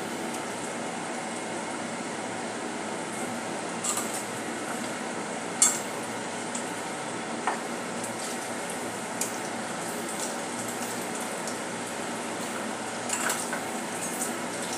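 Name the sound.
turning over potato balls frying in a pan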